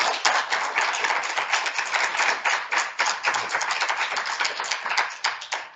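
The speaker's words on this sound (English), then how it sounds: "can we please have one last round of applause for Dr." Audience applause for Dr. Brian Costello at the close of a talk, a dense, steady wash of many hands clapping at close range, carrying on evenly for several seconds with no voices over it.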